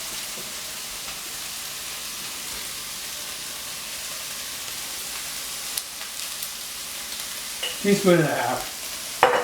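Chili powder sizzles in a pan over medium heat for a quesadilla, a steady, soft frying hiss close by, with a voice speaking briefly near the end and a few stirring knocks.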